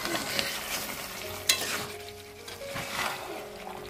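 Whole garam masala spices drop into hot ghee, giving a short, soft sizzle with stirring scrapes and a brief sharp clink partway through, without any talk.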